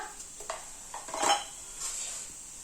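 Green chili and ginger paste is stirred in a pan of hot peanut oil with cumin, a spoon scraping and clinking against the metal in soft bursts over a faint sizzle, close and brief with no talking.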